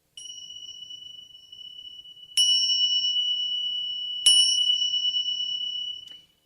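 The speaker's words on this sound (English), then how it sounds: "Those are Tibetan singing bells. They're called tingsha bells." Tibetan tingsha bells ring with a bright, sustained metallic tone, struck three times, each strike giving a sharp attack that shimmers and fades slowly, clear and close with no voices.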